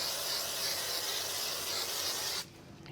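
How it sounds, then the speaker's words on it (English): Aerosol spray glue hissing onto silver card for a craft wedding shaker card: one steady, close, broadband spray lasting about two and a half seconds, then cutting off abruptly to quiet. "So I am going to just hit it with some spray glue."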